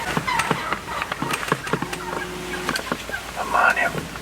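Wild turkeys gobbling near a creek during a hunt, several rough, rattling gobbles in quick bursts at moderate distance, with a soft voice murmuring in between.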